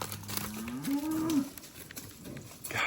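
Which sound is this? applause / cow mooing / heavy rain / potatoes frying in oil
cow mooing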